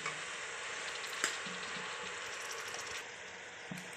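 Tripe (vajdi) frying in a pan with turmeric, a steady close sizzle of hot oil with a few light scrapes and knocks of a spoon stirring, and no voices.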